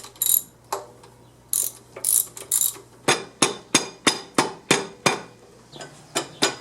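A ratchet works on the bolts of a car alternator, starting with a few scattered metallic clicks, then a steady run of sharp ratcheting strokes up close. A low hum sits underneath.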